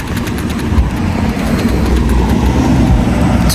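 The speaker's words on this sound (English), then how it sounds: "Oh God, this car's turning in here." A car rolls into a parking area at night close by, its engine and tyres making a loud, steady rumbling drone that builds slightly over several seconds with no one speaking.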